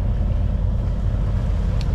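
A sailboat's inboard motor runs steadily under way, a constant low droning hum with some wind rush, loud and close with no talking.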